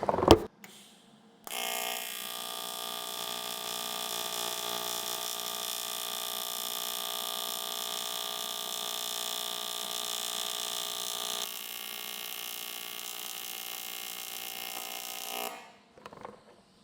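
AC TIG welding on 1/8 inch aluminum with an HTP Independence 210 inverter welder running on 120 volts: a steady, loud electrical buzz with a high-pitched whine holds for about fourteen seconds, then cuts off, with no voices.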